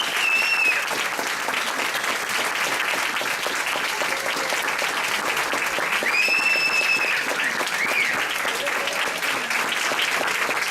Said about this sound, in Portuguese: Eu queria pedir uma salva de palmas para ele.